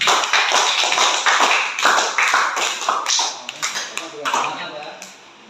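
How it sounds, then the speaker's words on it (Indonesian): A classroom of teachers claps for their class leader, a lively burst of many hands in quick overlapping rhythm that thins out toward the end, with voices mixed in. "tepuk tangan untuk ketua kelas"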